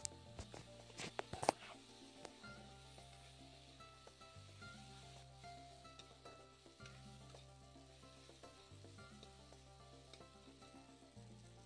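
Chopped tomatoes fry with a soft continuous sizzle in a pan, a few sharp utensil clicks and stirring knocks near the start, then a low steady hiss.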